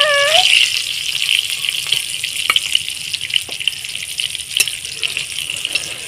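Sliced onions frying in hot oil in a home kitchen, a steady close sizzle and hiss throughout with a few scattered pops and crackles, no voices.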